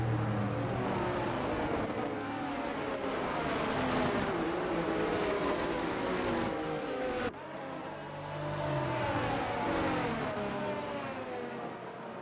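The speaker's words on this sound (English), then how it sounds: "Wow, that's a loud engine." A loud F1 car engine in a racing video game drones continuously at high revs, with shifting pitch and a brief dip midway, dominating the sound with no talk over it.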